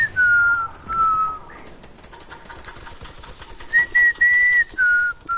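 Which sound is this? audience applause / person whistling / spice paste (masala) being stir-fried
person whistling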